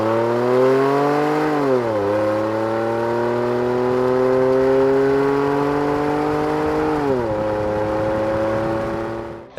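A Ford F150 2.7L EcoBoost with a Corsa cat-back exhaust drones steadily and close, its pitch dipping and recovering through two gear changes or throttle lifts with no talk over it.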